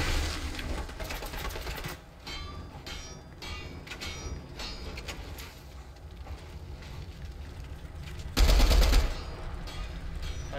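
Gunfire rattles through a Fortnite Battle Royale match, rapid repeated shots at moderate distance with a louder, heavier burst near the end, and game noise in between.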